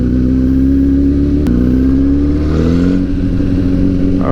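Honda CBR1000RR liter bike engine pulling loudly and close, a rising drone that climbs steadily in pitch as the throttle opens, with a brief click midway and no speech.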